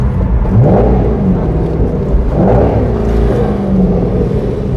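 An Aston Martin Vantage GT8 engine blips loudly on two quick downshifts, each rev rising and falling over a steady cabin rumble, heard close from inside the car.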